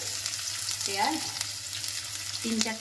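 Onions frying in hot oil in a kadai, a steady broadband sizzle with a low hum beneath and occasional stirring scrapes, while a faint voice speaks briefly in the background.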